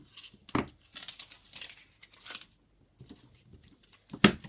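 Paper for a collage on a handmade tag is handled and cut: scattered crisp crinkling and snipping rustles, with a sharper burst near the start and another at the end, close and fairly quiet, with no talking.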